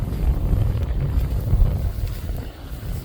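Blustery wind buffeting a microphone on an outdoor walk near a main road, a steady low rumbling roar that swells and dips without a break.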